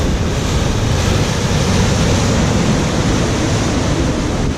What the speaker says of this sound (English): there's not too many waves like this today